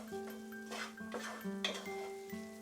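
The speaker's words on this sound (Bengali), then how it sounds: "মশলার সঙ্গে মেশাতে মেশাতে আমি 1 মিনিট এটাকে নাড়াচাড়া করব।" Fried potato pieces stirred with spices in a pan, a spoon scraping and clinking against the metal in several quick strokes over a soft sizzle, close and alone.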